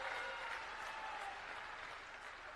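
Dense crowd applause fills an election rally in Khajuraho, Madhya Pradesh, a continuous wash of many hands clapping loudly at once, easing slightly toward the end with no speech over it.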